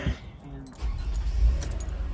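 Keys jangle briefly before a 2004 Toyota Highlander engine turns over and settles into a steady low rumbling idle, heard close up.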